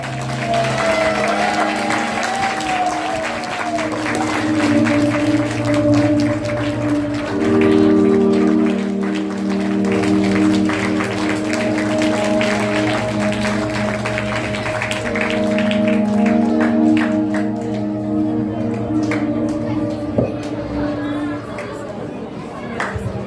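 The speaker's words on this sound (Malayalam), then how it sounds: "എല്ലാവരും നല്ലൊരു കയ്യടി കൊടുത്തേ." An audience claps during a church feast day celebration and priest's silver jubilee, with steady applause and crowd chatter under tonal music and a voice speaking over it.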